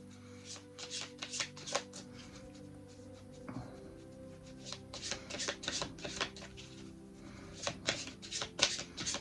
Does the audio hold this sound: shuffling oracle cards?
yes